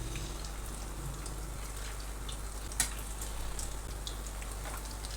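A potato cutlet frying in oil, a soft continuous crackle and patter over a low steady hum, with one brief sharper pop midway.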